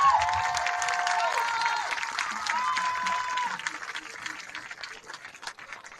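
A crowd at a high school homecoming ceremony claps and cheers for the newly crowned king and queen, a dense burst of applause with high shouts and whistles that gradually thins out.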